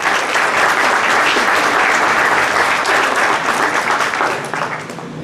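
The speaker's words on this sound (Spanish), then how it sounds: "Recibamos con un fuerte aplauso a los doctores" A large audience claps loudly and steadily at a medical talk on maternal and perinatal health, the dense applause holding for several seconds before tapering off at the end.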